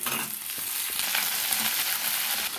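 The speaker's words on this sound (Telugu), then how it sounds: "ఎర్రగడ్డ పొలుపులు, కరివేపాకు, తరిగి పెట్టుకున్న బెండకాయ పొలుపులు ఇందులో వేసుకుంటున్నా." Onion slices, curry leaves and chopped okra fry in hot oil in a pan for an okra and prawn curry, giving a steady, close, dense sizzle with light crackling and no talk.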